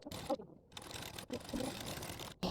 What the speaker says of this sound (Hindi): अब चलिए सिलाई लगा लेते हैं हम लोग।